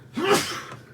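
A single sharp sneeze, close and abrupt, with a quick inhale before the burst and quiet afterward.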